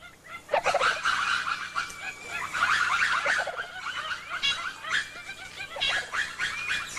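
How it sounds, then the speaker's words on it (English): Ring-tailed lemurs in a Madagascar forest give a dense, continuous chorus of yapping, barking alarm calls after spotting a hawk, many voices overlapping loudly and close by. "Lemur alarm calls help recruit a drongo, a native crow-like bird which mobs the retreating hawk."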